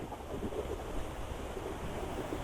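Steady rushing water from a river running alongside a slippery hillside path in the Petung Kriyono hills on the way to Black Canyon, a continuous broadband wash heard close with no speech.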